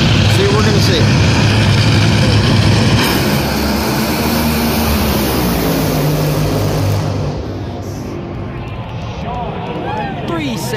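Top fuel drag racers with about 48,000 combined horsepower launch off the line at a four-wide nationals event in Charlotte, a loud broadband roar that fills the first seven seconds, then drops away as the cars pull into the distance.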